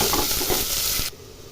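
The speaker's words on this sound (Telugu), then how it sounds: "కూరకు కావాల్సిన ఆయిల్ వేసండి, ఉల్లిపాయ పచ్చిమిర్చి" Onion and green chillies frying in oil in a pan for a curry: a dense, steady sizzle with soft stirring scrapes, cutting off abruptly near the end.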